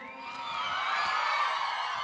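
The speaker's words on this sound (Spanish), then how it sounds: "A ver, bueno, que se escuche ese grito." Crowd at a Christian youth camp shouting a chant together, a loud sustained mass of voices that swells over about two seconds.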